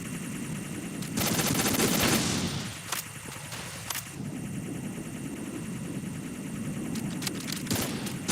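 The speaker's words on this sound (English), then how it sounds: "Get to use the assault rifles otherwise." Assault rifle fire in Metal Gear Solid 2, loud bursts of rapid shots near the start, then scattered single cracks and shorter volleys over continuous game noise.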